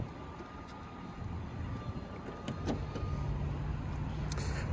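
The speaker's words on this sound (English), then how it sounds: "Those seats do go down if need be. And all of this is powered, so." Powered rear seats of a 2023 BMW X5 folding down, a steady electric motor whir inside the cabin building slightly louder toward the end, with a few soft clicks and no talking.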